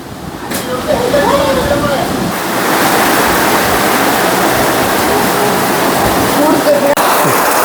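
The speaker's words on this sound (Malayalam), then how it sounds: "ഒരു ഭയങ്കര കൊടുങ്കാറ്റ് പോലുള്ളൊരു മഴയാണ്" Heavy, storm-like rain with strong wind roars outdoors in a Kerala village, a dense, loud, unbroken wash of noise, with faint voices briefly audible beneath it.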